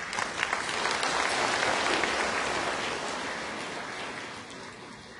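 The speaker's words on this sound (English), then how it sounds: "Give him another round of applause, folks." An audience at a talk on vegetarian diet and the environment applauds, a dense sustained clapping that swells early and slowly fades over several seconds, no voices over it.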